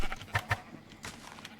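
Two short sheep bleats close together in Minecraft, followed by softer scattered game sounds, faint and slightly synthetic.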